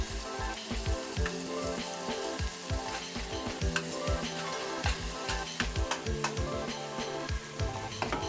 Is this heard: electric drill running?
no